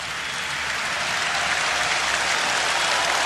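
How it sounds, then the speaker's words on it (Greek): A large arena crowd at a 2005 basketball game applauds, a dense, loud, sustained roar of clapping that holds steady throughout without a break. "Σεβασμός, υπόκληση, χειροκροτήματα"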